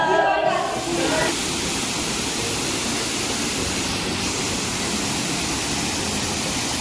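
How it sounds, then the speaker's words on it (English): A waterfall on a heritage resort property in Coorg roars with a dense, steady rush of falling water, loud and continuous, with a brief voice at the very start. "this is the waterfall within the property"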